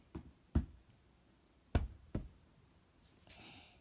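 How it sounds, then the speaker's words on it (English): Two pairs of sharp, hollow knocks sound on a cottage door, close and crisp with a short pause between each pair, followed by a faint rustle. "He walked up the garden path of Two-Pin Cottage and knocked at the door."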